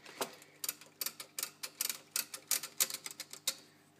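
A Rock-Ola 474 jukebox cog mechanism is wound back by hand, giving a quick series of sharp mechanical ticks and clacks in uneven rhythm, close and crisp against a quiet room.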